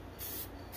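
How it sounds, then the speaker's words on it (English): Krylon fixative sprayed from an aerosol can onto a scratchboard, a short steady hiss held at close range, swelling briefly and then trailing off. "this is way too high of an angle to be spraying this"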